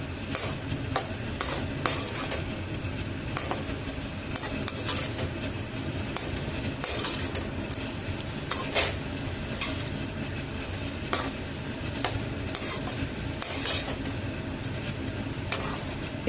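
Capsicum poha upma being stirred in a pan, with a steady bed of sizzling and repeated sharp scrapes of the spoon against the metal, close and fairly loud without a break.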